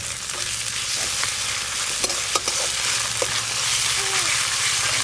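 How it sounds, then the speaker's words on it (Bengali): Chopped onion with ginger and garlic paste fries in hot oil for a prawn dish, giving a steady close sizzle broken by scattered spoon taps and stirring scrapes. "আদা রসুন আর পেঁয়াজ কুচি একটু ভালো করে ভাজা হতে থাক"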